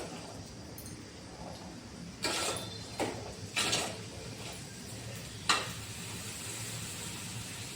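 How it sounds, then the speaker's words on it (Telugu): Bitter gourd pieces fry in hot oil with a steady, low hiss, broken by a few sharp clanks and scrapes of the pan. "పెట్టిన ఆయిల్లో బాగా ఫ్రై చేసుకోవాలి"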